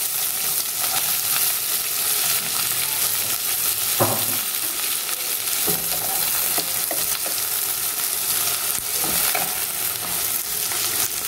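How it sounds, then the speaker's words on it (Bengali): Onions dropped into hot white oil in a pan sizzle loudly and steadily, with a few clinks and stirring knocks over the constant frying hiss. "তেলটা আমার গরম হয়ে গেছে আমি প্রথমে পেঁয়াজটা দিয়ে দিলাম"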